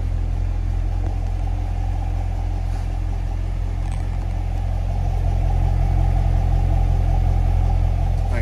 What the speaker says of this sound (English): Here it is with it running.